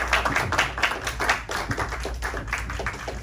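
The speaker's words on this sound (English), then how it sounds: "I hope you'll give Dr. Filippenko another huge round of applause" A lecture audience claps in a dense, steady round of applause. It carries loud and continuous for the whole stretch with no talk over it.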